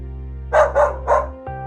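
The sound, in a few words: dogs barking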